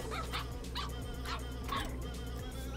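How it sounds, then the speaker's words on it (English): A cartoonish dog barks and yips in repeated short bursts from an Overwatch emote for the robot hero Orisa, over a steady game background hum, with no talking. "An Overwatch dog."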